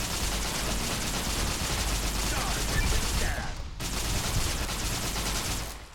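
Rapid gunfire crackles almost continuously in the Fallout video game, a dense volley of shots that breaks off briefly and then resumes.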